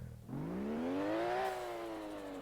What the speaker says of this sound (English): Let's open the hood and hear the turbo sounds.